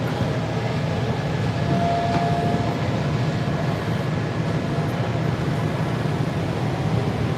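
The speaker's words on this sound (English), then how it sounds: "This train is rocking." Silver Line metro train riding on rails, a steady loud rumble of wheels and carriage noise, continuous throughout from inside the moving car.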